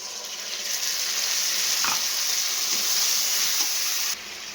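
A paste of ginger, cumin, tomato and garlic fries with lightly browned chopped onion in a pan. A steady hissing sizzle holds for several seconds with faint stirring clicks, then drops suddenly just before the end.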